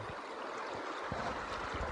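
Creek water flows steadily at a backcountry stream crossing on a mountain hunting trip, a continuous close rushing and gurgling wash with no voices.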